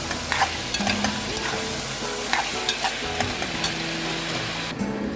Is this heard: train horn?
no